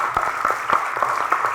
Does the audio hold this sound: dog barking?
no